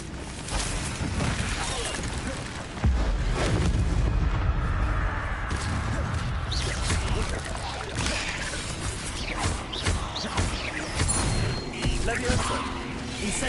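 The Incendio fire spell is cast over and over in Hogwarts Legacy, loud whooshing bursts and booming hits crowding together with game music and effects and no pause between them.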